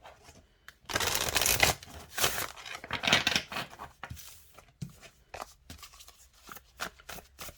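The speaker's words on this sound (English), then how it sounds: "And it shuffles fine this way too." A deck of oracle cards is shuffled up close: a dense burst of riffling, then lighter, scattered flicks and taps as the shuffling slows.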